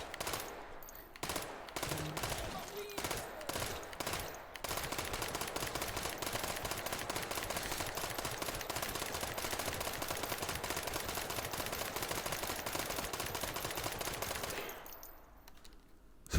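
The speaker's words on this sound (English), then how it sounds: "Surprisingly, 150 rounds of 22 long rifle goes on for a while." A .22 long rifle firing in a sustained rapid automatic stream in the VR game Hot Dogs Horseshoes & Hand Grenades, loud and close, after a few opening shots, continuing for about ten seconds before stopping.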